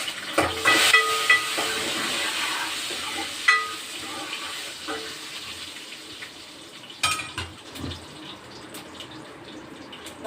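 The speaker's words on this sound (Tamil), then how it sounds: "கடுகு பொரிஞ்சிச்சு." Mustard seeds splutter in hot oil for sambar, a continuous sizzling hiss broken by sharp pops and crackles, with occasional clinks of a pot and utensil nearby.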